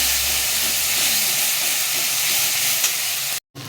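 Ginger, garlic and green chili sautéing in a hot pan, a loud steady hiss and sizzle close up that cuts off abruptly near the end.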